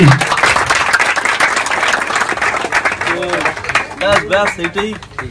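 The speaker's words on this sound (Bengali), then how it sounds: "আমাদের জন্য আগে ধরে হাততালি।" A crowd at a student pigeon-flying prize event applauds a winner with dense, loud, continuous clapping, and a voice starts talking over it in the last couple of seconds.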